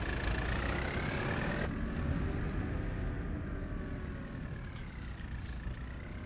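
A New Holland M7 tractor engine in Farming Simulator 22 runs at a steady idle, a constant mid-low drone that stays fairly even and close, with a slight drop in level partway through.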